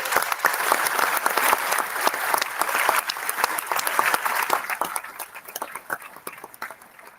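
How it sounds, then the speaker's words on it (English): An audience applauds at the opening session of a Social Business Day event, a loud, sustained patter of many hands that gradually thins and fades toward the end. "Let's give a big applause for them"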